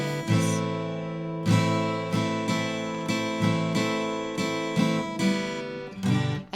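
Acoustic guitar strummed through open chords in a beginner song lesson, with a rhythmic pattern of strong down strums and lighter up strums, clear and close, about eight strokes, no voice.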